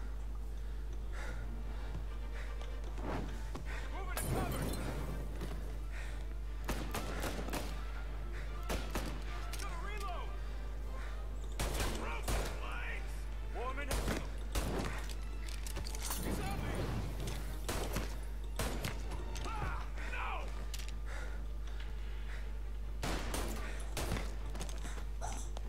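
Gunfire in the Mafia Definitive Edition video game: several sharp shots and bursts scattered through a long stretch, with someone talking over much of it and a steady low hum underneath.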